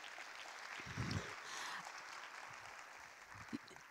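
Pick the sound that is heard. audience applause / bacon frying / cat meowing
audience applause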